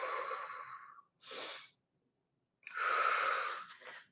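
Forceful breath pushed out during a Pilates mat exercise, sounding in three breathy bursts with pauses, the last the longest and strongest, close and clear with no talk.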